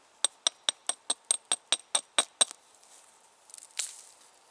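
Flint knapping, with about ten crisp, evenly spaced clinks as flakes are trimmed off a stone point, close and sharp, followed by a brief scraping rustle.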